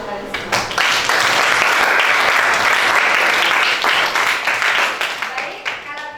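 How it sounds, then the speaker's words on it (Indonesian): Classroom of students applauding, a burst of many hands clapping that swells quickly, holds strong, then tapers off toward the end, close and lively. "tepuk tangan untuk kalian semua"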